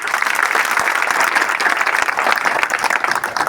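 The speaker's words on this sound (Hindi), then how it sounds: "अपने लिए जोरदार ताली।" Loud, sustained applause from an audience, many hands clapping in a dense continuous wash that holds steady throughout.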